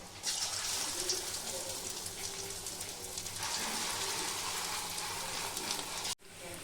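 Chicken pakoras fry in hot oil in an iron wok over a medium flame, giving a dense, rain-like hiss that holds steady and close, then stops abruptly near the end.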